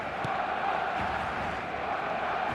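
A steady, dense stadium crowd roar from an eFootball match fills the scene, a continuous wash of distant voices with no single cheer standing out.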